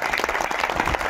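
Audience applause at a comedy kirtan program in Wankheda, a dense, steady burst of clapping from a crowd, loud and continuous for about a second.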